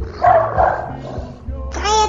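A dog barks in a couple of short, loud bursts close by, with a person's voice briefly underneath.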